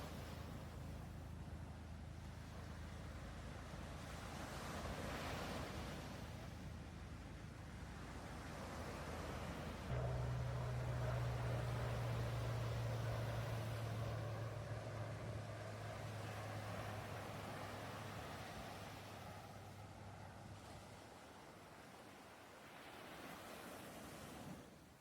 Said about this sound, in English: As you hear the tide rolling in, let your emotions rise. And as you hear the tide roll out, release them to the sea.